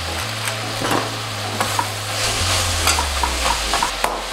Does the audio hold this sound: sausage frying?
yes